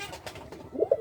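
Pigeons in a large loft coo softly in a brief, low murmuring burst.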